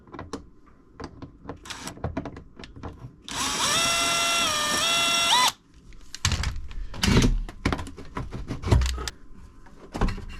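On a 2017 Polaris General 1000, a power driver runs out the 8mm belt cover bolts and clamps with one sustained whirring burst of about two seconds, surrounded by scattered metallic clicks and handling clatter.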